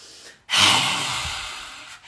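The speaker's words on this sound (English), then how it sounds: "Now breathe out." A long, steady out-breath during a qi gong exercise, close and airy, starting abruptly after a brief inhale and holding for over a second before fading.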